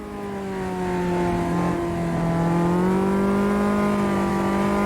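A Caterham race car engine in a VR racing simulator game drones steadily at high revs, its pitch rising and shifting slightly as it accelerates, loud and continuous with no talking.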